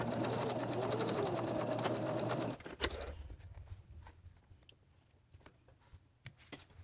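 A sewing machine back stitching across the opening of a reversible placemat with a built-in silverware holder runs steadily and close for a few seconds, then stops, leaving faint handling clicks and rustles.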